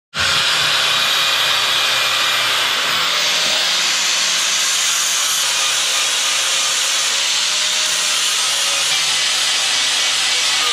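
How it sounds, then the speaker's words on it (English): A power sander grinding powder coat off a metal traction bar part to prep it for welding, with a loud, continuous, close abrasive whine starting abruptly and running steadily throughout. "sand off some of this powder coat here, so we got a good surface to weld on"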